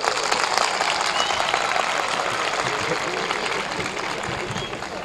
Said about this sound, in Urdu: تالیاں بجائیں بیٹے